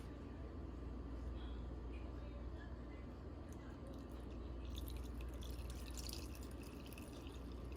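Jaggery water being strained and poured into flour batter for malpua, a steady liquid trickle and drip that grows brighter partway through over a constant low background rumble.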